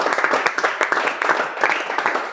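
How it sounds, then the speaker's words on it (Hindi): Students in a 10th-grade physics class at a residential school in Karudih, Jharkhand break into loud, brisk group clapping, a dense run of sharp claps that fills the room without any talking. "मारो ना जोरदार ताली"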